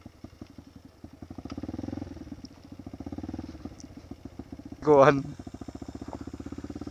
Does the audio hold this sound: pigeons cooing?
no